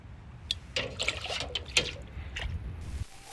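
Well water poured into a cup, with splashing and trickling bursts and a few clinks from the cup, near and fairly quiet, ending abruptly.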